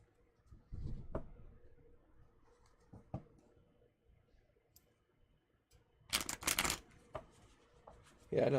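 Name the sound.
shuffling tarot cards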